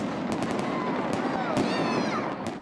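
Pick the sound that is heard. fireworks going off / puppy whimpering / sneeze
fireworks going off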